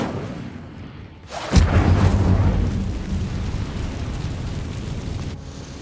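In Hogwarts Legacy, an Incendio fire spell goes off with a sudden loud whooshing burst, then a rumbling roar of flames that slowly fades.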